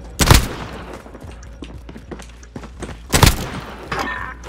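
Pistol fire in Call of Duty: Modern Warfare (2019), two loud close shots a few seconds apart with softer thuds and scuffling between them, no talking.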